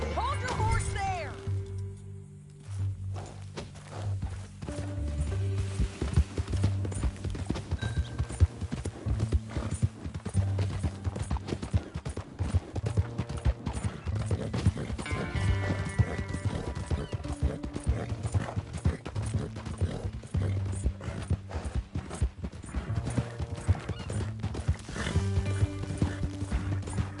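Rhythmic clip-clop of horse hooves trots steadily throughout, from the video game Red Dead Redemption II, with an occasional whinny and voices talking over the hoofbeats.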